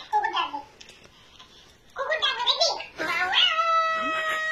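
A cat meows several times, some calls drawn out and wailing, while someone talks and babbles close by.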